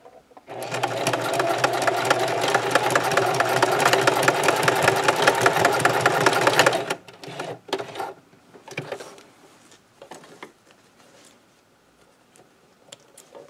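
A sewing machine stitches a scrub cap with a ponytail opening in one loud, steady run of about six seconds, then falls quiet apart from scattered soft handling noises.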